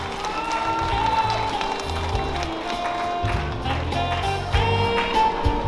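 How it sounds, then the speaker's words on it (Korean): A crowd claps and cheers for the county governor walking on stage at the closing ceremony of the 2022 Yeongdong Grape Festival, a steady dense roar of applause with music over it throughout. "큰 박수와 함성으로 맞아주시면 감사하겠습니다"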